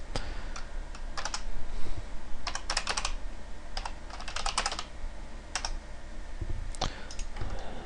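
Computer keyboard typed on at close range, quick irregular clusters of clicking keystrokes with short pauses, no voices.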